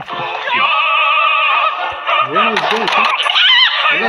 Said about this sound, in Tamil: கோழி பாக் பாக் பாக் பாக் பாக்